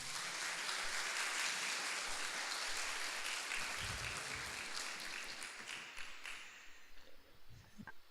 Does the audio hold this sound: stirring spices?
no